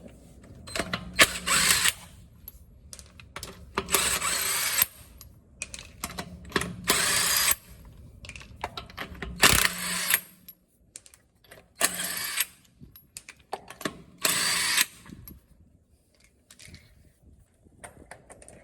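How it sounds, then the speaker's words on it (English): An impact wrench removes lug nuts on a 1997 Nissan pickup, firing in repeated bursts of a second or two each, loud and close, separated by short pauses with faint clinks. "I'm going to start taking off the lug nuts with the impact wrench"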